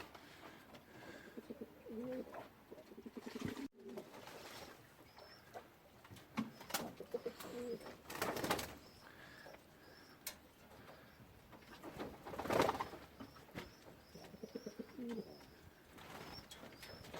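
Pigeons coo softly in a loft on a hot day, low, throaty, repeated calls scattered throughout, with wing flaps, splashing from a bath and shuffling noises around them, all fairly quiet.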